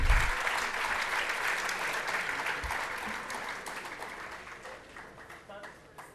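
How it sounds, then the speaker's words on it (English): A school event audience gives a big round of applause for named student participants, a broad, dense wash of clapping that starts loud and slowly fades, with faint voices underneath. "Please, audience, big round of applause for them."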